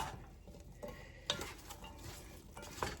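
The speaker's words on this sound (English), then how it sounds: "Give those a stir." Carrots and celery get stirred in a stew pot for a beef stew, giving a soft scraping swish with a couple of sharper utensil knocks against the pot.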